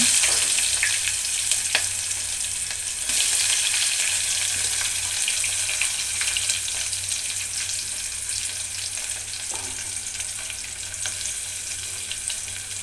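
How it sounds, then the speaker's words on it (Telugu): Onions coated in masala fry in a pan with a steady, dense sizzle throughout, broken now and then by faint clicks and scrapes from stirring, with no voices. "ఇదిగోండి ఫ్రెండ్స్, ఉల్లిపాయ వేగిపోయింది."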